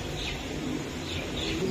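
Pigeons, high-flyer breeds kept by a seller, coo softly in a low steady murmur, with faint chirps and a brief flutter of wings over constant background noise.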